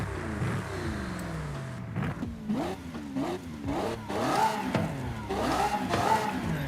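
A 6.5-liter Lamborghini V12 revving in Forza Horizon 5, with repeated sharp throttle blips whose pitch climbs and falls in quick succession, loud and close.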